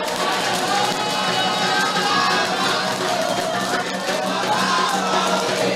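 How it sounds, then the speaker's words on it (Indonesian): A crowd at a public hearing for Bandung mayoral and deputy mayoral candidate pairs claps and cheers loudly throughout, with a dense, sustained roar of applause and shouts. "kita berikan tepuk tangan luar biasa untuk seluruh pasangan calon yang sudah ada"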